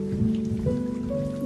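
Rain patters softly and steadily on a surface beneath sustained, gentle musical tones.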